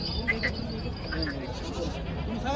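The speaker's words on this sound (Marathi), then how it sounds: "गावरान शेळी असतात." Native gavran goats at the Bolda goat market give a few short bleats amid crowd noise, while a person talks nearby.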